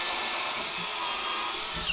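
Power drill driving screws into wooden decking around a garden pond, a continuous high whining motor run lasting the full two seconds, close and loud with no speech.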